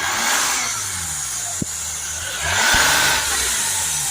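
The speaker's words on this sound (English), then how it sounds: "So if we rev the car up, can notice a little bit of an issue here." A Mercedes E350 engine with a fault, revved twice from a steady idle-like hum, pitch rising and falling each time, heard close with no talking.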